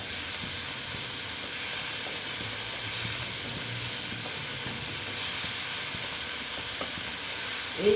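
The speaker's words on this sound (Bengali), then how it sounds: "কষিয়ে নিচ্ছি পেঁয়াজ কলির সঙ্গে এই" Mourola fish curry with onion shoots sautéing in a pan, giving a steady broadband sizzle and hiss with faint stirring scrapes throughout, close and continuous.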